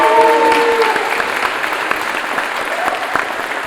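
An audience at an EMS graduation ceremony applauds steadily, loud and dense at first and then easing slightly, with a brief voice over the opening moments.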